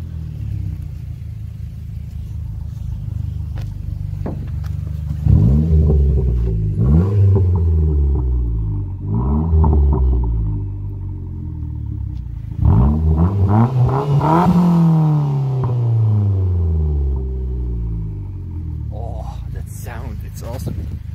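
Mitsubishi Colt CZT with a 1.5 turbo engine revving in a series of quick throttle blips, followed by a longer rev that climbs and falls back, loud and close.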